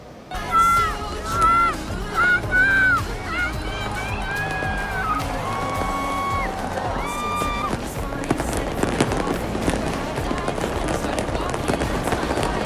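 New Year's Eve fireworks at Bundaran HI, Jakarta, crackle and pop in a dense, continuous barrage over a crowd's murmur, with whistling tones rising early on.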